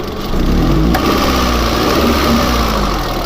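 A 2003 Honda Civic 1.7-litre engine with a restricted exhaust runs loud and close, its throttle snapped for a quick rise in revs before settling back to a steady drone.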